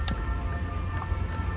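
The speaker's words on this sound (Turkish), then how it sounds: "O kadar çok ambulans geçiyor ki yani insanlara ne oluyor acaba?" A faint ambulance siren wails steadily somewhere along a city street in Lyon, distant and low under the traffic hum.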